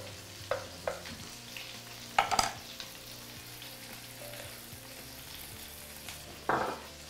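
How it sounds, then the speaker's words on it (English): Garlic sautéing in a pan on a farm kitchen stove, a soft steady sizzle with a few sharp clinks and scrapes of utensils against the pan, no talking. "after they saute for a second, we're going to add garlic"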